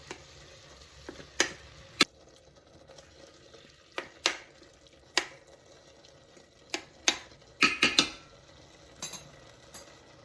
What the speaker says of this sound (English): hold the inner pot still while I break up the ground beef a little bit more